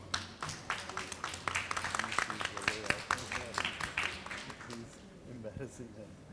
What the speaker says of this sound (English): Pankaj and Sanjay Rakesh both deserve a real round of applause for this.